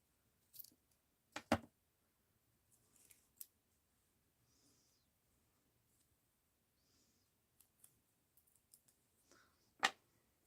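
Scissors snip paper for a mixed-media art journal in a quiet room, a few short, sharp cuts spaced apart with small clicks and rustles between them.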